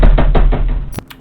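A door rattling inside a reportedly haunted hotel room, a quick series of loud knocking rattles followed by one sharp final knock, close and with no voices.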